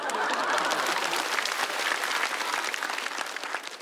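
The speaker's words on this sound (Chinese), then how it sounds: "可以给我鼓下掌" An audience at a stand-up comedy show bursts into dense, sustained applause that stays loud throughout and fades slightly near the end.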